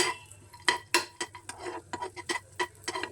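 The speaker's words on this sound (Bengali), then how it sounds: "কাজু আর কিশমিশ ছোট ছোট করে কেটে নিয়েছি, অল্প একটু ঘিয়ে ভেজে নেব।" A utensil repeatedly clinks and scrapes against a pan while chopped cashews and raisins fry in a little ghee; sharp, irregular taps close by, with no talking.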